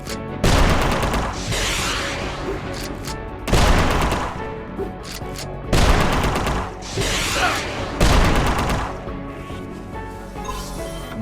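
Grenade explosions and gunfire in the video game UnMetal: four loud, heavy blasts arrive at roughly two-second intervals, each decaying into a rumbling tail layered with game music and effects.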